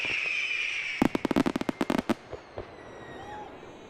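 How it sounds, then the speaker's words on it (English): A Territory Day fireworks display put on by the Jabiru Sports and Social Club sends a rapid burst of sharp crackling bangs, a dozen or so in quick succession, then a couple of fading pops, with crowd noise around. "As well as the fireworks display we are watching"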